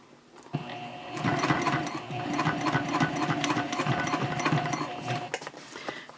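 A sewing machine on a long 4.0 basting stitch tacking down the flap of a messenger handbag, starting after a brief pause and running in one continuous, steady mechanical whir before stopping.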